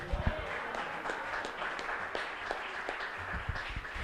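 A church congregation applauds with scattered, soft, fairly distant clapping that holds at a steady low level throughout.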